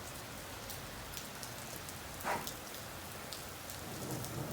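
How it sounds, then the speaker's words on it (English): Heavy rain pours in a steady, dense hiss on outdoor surfaces, with a brief, faint rumble of thunder partway through. "it started opening up rain, pretty bad, thunder and lightning."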